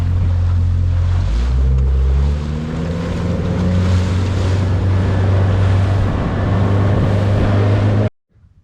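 Small fishing boat cruising over the Great Barrier Reef, its outboard motor droning loud and steady up close with wind buffeting the microphone and water rushing past, then cutting out abruptly at the end.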